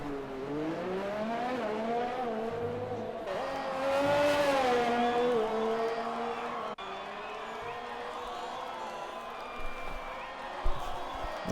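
Race cars in a racing game leave the pits on out-laps for the Vietnam Grand Prix, several engines whining and revving through gear changes, one rising loudly near, under a faint crowd-like wash with no talk.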